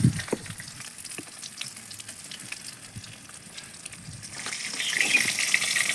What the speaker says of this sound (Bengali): মাছগুলো তো এদিকে ভাজা হচ্ছে